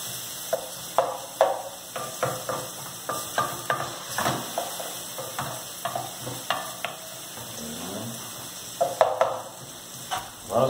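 Beef shank for osso buco browns in a hot pan with a steady sizzle, while a utensil stirs and scrapes in repeated clattering strokes over about ten seconds.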